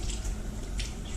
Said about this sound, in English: Just rinse it off real good.